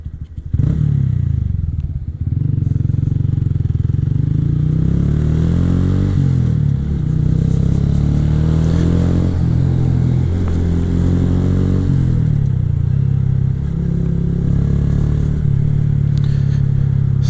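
A Honda Grom motorcycle is ridden through town, its small engine droning loud and steady close to the mic, with rising and falling rev sweeps as it accelerates and eases off over the whole stretch.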